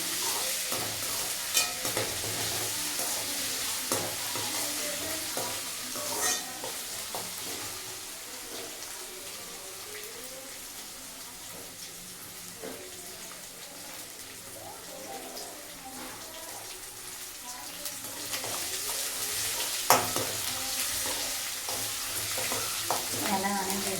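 Paste sautéing in oil in a home kitchen pan, a steady broadband sizzle running throughout with frequent scraping stir clicks and occasional sharper spatters, close and moderately loud with no talk.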